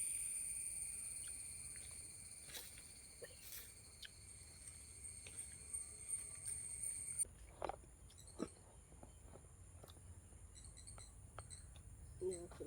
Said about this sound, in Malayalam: ചീവീട്